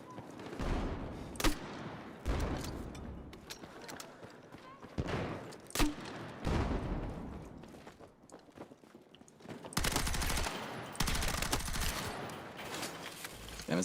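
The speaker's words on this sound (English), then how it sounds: "it's kind of cool shooting through the dark, though" Gunfire in the Battlefield 6 video game on the Hagental Base map, with repeated bursts of shots and fire in dark hallways, interspersed with footsteps and crunching sounds, at a moderate level.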